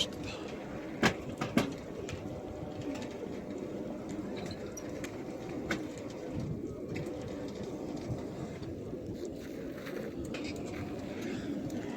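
Low cooing of racing homing pigeons murmurs steadily in a loft, with a couple of sharp knocks early on and faint voices in the background.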